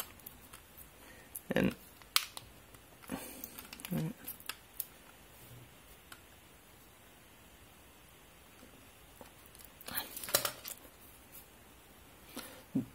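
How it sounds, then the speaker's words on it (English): Black plastic being torn and cut with scissors while opening a Raspiboy handheld, quiet rustles and a few sharp snips and rips in scattered bursts, under soft talk. "so we can tear the black plastic like this, and then we'll cut it here"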